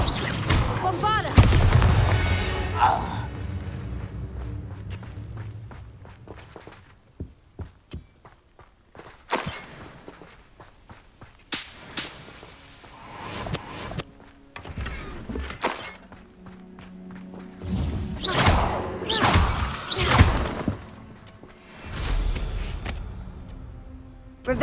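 Bombarda spell explosions in the Hogwarts Legacy video game, a loud opening blast followed by scattered booming impacts and a cluster of bursts near the end, mixed with footsteps and combat noise.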